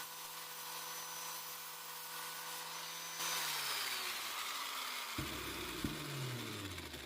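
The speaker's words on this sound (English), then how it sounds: "I only sanded half of each metal bar." A steady, loud grinding whine of a metal bar being sanded, shifting pitch as the tool spins down and back up, with no voices.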